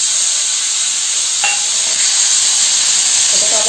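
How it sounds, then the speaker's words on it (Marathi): Chopped tomato frying in hot oil for a chutney tempering gives a steady, close sizzle and hiss throughout, with a brief utensil clink partway and no talking. "टोमॅटो पण त्याच्यावर चांगला फ्राय करायचा"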